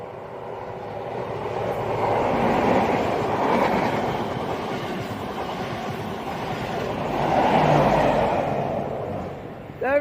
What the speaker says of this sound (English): There it goes, there goes the Midland Pullman, and there goes 390-136.